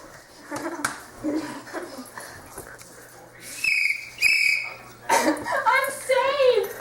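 Sharp, shrill whistle blasts sound twice in succession, loud and close, followed by warbling whistle-like tones mixed with a person speaking.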